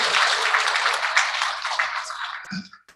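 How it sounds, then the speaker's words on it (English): Dense, steady applause from an audience fills a signing-ceremony hall, loud and continuous before tapering off sharply at the end. "qu'on applaudit encore très fort"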